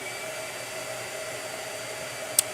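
A blow dryer runs steadily at close range, used while making a gouache painting, with an even, continuous whooshing hum and one brief click near the end.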